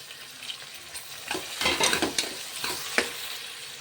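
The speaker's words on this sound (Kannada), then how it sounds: "ಈರುಳ್ಳಿ ಚೆನ್ನಾಗಿ ಎಣ್ಣೆಲಿ ಫ್ರೈ ಆಗಿದ ತಕ್ಷಣ ನೆಕ್ಸ್ಟು ಟೊಮೆಟೊನ ಹಾಕ್ಕೊಳ್ತಾ ಇದ್ದೀನಿ" Tomatoes frying with onions in oil in a pressure cooker while making egg pulao: a steady soft sizzle with scraping stirs that grow busier midway and a sharp clink near the end, close and with no talk.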